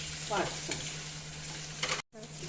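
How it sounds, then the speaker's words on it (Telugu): Mustard seeds and pumpkin pieces with green chillies fry in hot oil for a pumpkin chutney, giving a steady close sizzle with a few stirring scrapes and a brief cut-out near the end. "ఇలాగ ఆయిల్లో ఆవాలు వేసి ఇది వేసి వాడుకోవాలన్నమాట"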